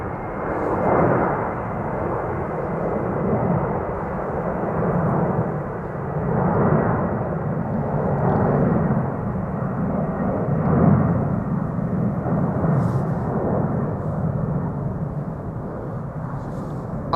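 Atlas Air cargo jet departing Amsterdam Schiphol, a broad steady engine roar with a low rumble that swells and ebbs slightly throughout, heard alone without talk.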